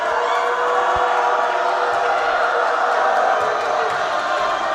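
A dense, loud high school basketball crowd cheers and roars continuously in a gym, with a steady wash of voices and a few thuds on the floor.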